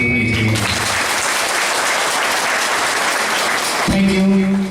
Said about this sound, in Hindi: एक बार उनके लिए फिर से जोरदार ताली होनी चाहिए